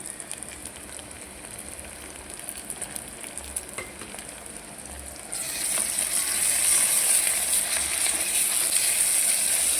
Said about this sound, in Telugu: ఇందులో అల్లం వెల్లుల్లి పేస్ట్ వేసేసి అల్లం వెల్లుల్లి పేస్ట్